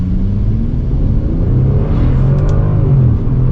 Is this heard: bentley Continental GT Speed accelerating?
yes